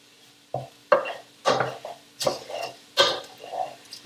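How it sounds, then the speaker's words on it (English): Rice grains scraping and rattling against a pan as they are stirred into butter for risotto, in a series of brisk bursts about every half second, close and fairly quiet. "And you can hear the rice as it's hitting the pan."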